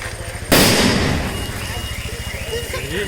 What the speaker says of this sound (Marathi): आम्ही फटाके फोडतो बघू पाण्यात